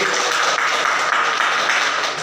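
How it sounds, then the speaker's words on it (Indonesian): Steady, dense clapping from a classroom audience applauding the first student group during a micro-teaching session, a continuous wash of hand claps at even loudness throughout. "Tepuk tangan untuk kelompok I"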